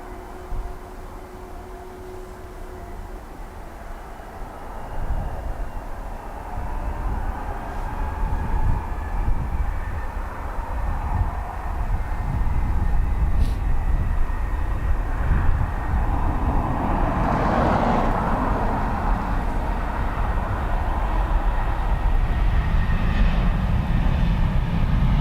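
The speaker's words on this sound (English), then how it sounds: "A330 off to Miami." An Airbus A330 taking off from Dublin Airport on runway 10 right, a deep jet engine roar that builds from a distance and holds loud and broad, heard alone outdoors.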